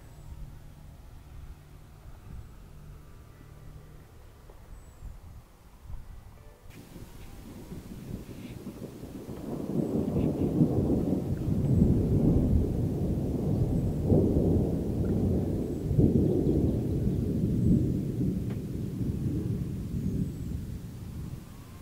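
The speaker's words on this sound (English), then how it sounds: "Little storms like these that roll through in just a matter of minutes and are always around you but not necessarily always on top of you" A thunderstorm rolls through the Colorado mountains: quiet wind at first, then a deep, loud rumble of thunder swells in and keeps rolling for many seconds.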